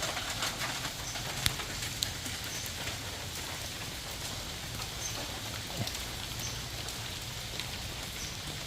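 Steady rain falls around a temple, a continuous broadband patter with a few sharper drips standing out, even and moderately loud throughout with no voices.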